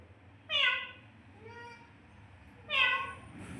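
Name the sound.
cat meowing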